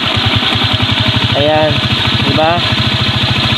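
A RUSI TC125 motorcycle engine idles steadily up close, with a rapid even low throb throughout while someone talks over it.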